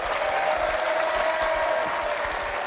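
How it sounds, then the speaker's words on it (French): A French TV game-show studio audience breaks into steady, dense applause, with many hands clapping close and continuously at an even level throughout. "Je demande au public de vous applaudir."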